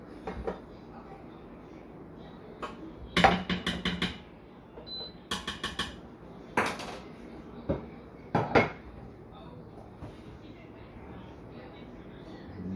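Rice being plated into dishes in a home kitchen, a scattering of sharp ceramic clinks and spoon scrapes in short clusters, fairly close and moderate, with soft background room noise.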